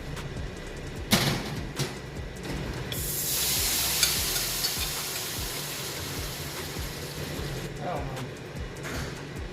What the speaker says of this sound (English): Now we're gonna put the shrimp on